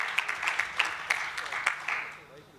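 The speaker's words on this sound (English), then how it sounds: "you can clap, that's good" Scattered claps from an audience at a political address, a handful of sharp distinct hand claps spread over a few seconds, moderately near and fairly quiet, with no speech over them.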